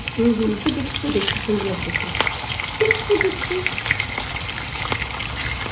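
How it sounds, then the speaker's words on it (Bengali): Rupchanda (pomfret) fish, coated in spice paste and fried four at a time, sizzle and spatter steadily in a pan, with voices talking over the frying. "চারটা চারটা করে ভাজি"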